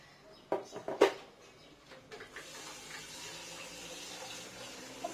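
Water runs and pours into a pot of rice, starting with a few soft splashes and knocks, then settling into a faint steady trickle.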